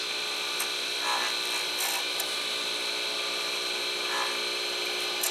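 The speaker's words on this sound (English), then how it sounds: "As you hear the tool go across it, it'll make a noise." A continuous high, gritty rasping comes from a lathe tool chattering against a spinning pen blank, steady throughout with a faint motor hum underneath.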